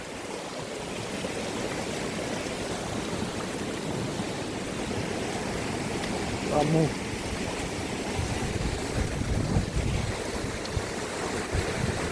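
Floodwater surges hard across fields after Cyclone Montha, a steady broadband roar with wind buffeting the microphone throughout, while a voice speaks over it.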